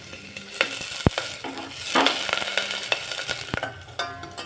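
Ginger, garlic and green chilli frying in coconut oil in a pressure cooker, a close crackling sizzle broken by clinks and scrapes of a stirring spoon, including one sharp knock.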